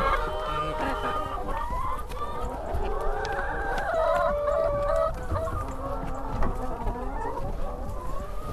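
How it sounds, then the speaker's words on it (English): Free-range hens cluck steadily and close by as they are let out of their house on a winter morning, with a rooster crowing and wild birds of the dawn chorus chattering in the background. "We're just opening the door and letting the hens out."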